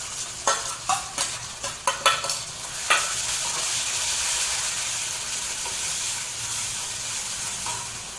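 Ginger, garlic and green chilli paste hitting hot oil with cumin and asafoetida: several sharp spattering crackles at first, then a steady loud sizzle and hiss that carries on to the end.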